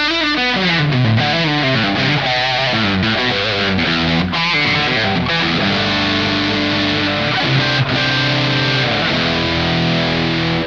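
Loud electric guitar through a Rat distortion pedal playing heavy chords and riffs, thick and saturated, continuous without any voices.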